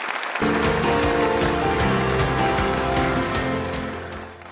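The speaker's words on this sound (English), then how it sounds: "Can we give them another round of applause?" An audience at a wildlife conservation event applauds a group of musicians, steady dense clapping starting abruptly and holding strong before tapering slightly, with a sustained low tonal sound underneath.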